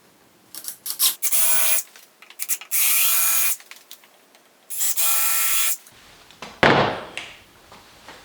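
A power driver sinks screws into a custom cabinet carcass in several separate bursts of whirring, each lasting about half a second to a second, then a louder final spin and a clunk.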